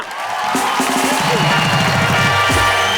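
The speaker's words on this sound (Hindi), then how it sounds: "तालियां।" Audience applause and cheering at a Hindi comedy and poetry show, a dense, steady wash of clapping with some whoops and crowd voices, loud and sustained throughout.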